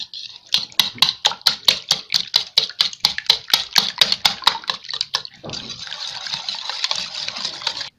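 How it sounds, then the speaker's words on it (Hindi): Eggs beaten for butter cake batter make a rapid, evenly spaced run of sharp whisking clicks, about three per second, for roughly five seconds, then settle into a steadier continuous swishing. "सबसे पहले अंडे तोड़कर फेंट लें।"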